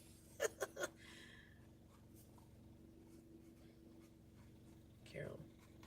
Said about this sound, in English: as I'm writing her number onto my paper